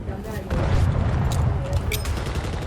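Explosions and gunfire in the video game Battlefield 2042, a steady, loud barrage of booming blasts and rattling fire with a voice talking over it.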